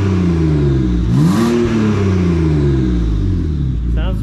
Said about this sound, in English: Give us a couple revs, Mike.